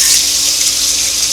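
Cool tap water runs in a steady, loud gush while metal sewing-machine foot pedal parts are rinsed clean of degreaser, with no voices.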